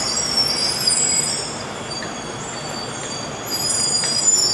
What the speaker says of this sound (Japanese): 1番線到着中の列車は当駅止まりの回送列車です